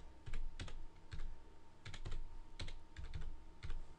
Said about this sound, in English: So let's type in itorial.net's IP address.